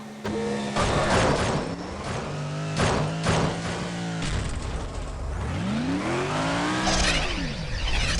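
A car accelerating in the mobile racing game Jet Car Stunts 2, with rising and falling revving engine sweeps, whooshes and sliding whirs that are loud and continuous throughout, with no talk.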